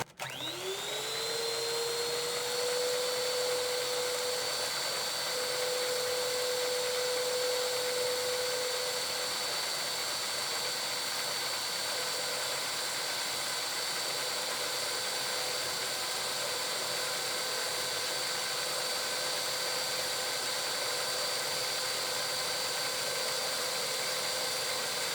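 An electric hand mixer runs at slow speed through carrot cake batter, a steady loud motor whine that starts up sharply and holds an even drone throughout, no talking.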